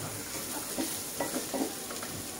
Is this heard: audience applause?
no